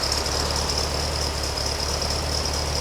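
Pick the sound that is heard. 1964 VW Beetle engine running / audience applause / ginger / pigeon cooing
1964 VW Beetle engine running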